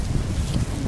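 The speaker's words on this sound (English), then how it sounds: "This wind is crazy." Strong wind storm roaring across an open microphone, a dense, steady low rumble with gusty buffeting that never lets up, close and loud through the whole moment with no talking.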